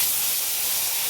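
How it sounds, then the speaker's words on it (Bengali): Gudjauli fish fries in hot oil in a wok, giving a brief, steady, loud hiss close by, with no pauses and no voices. "এবার আমি মাছগুলো ভাজতে দিচ্ছি।"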